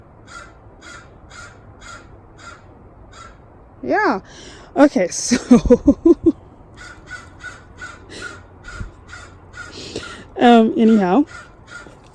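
A crow caws in a garden with several loud, close caws in short bursts, while a person speaks briefly nearby and smaller birds chirp steadily in the background.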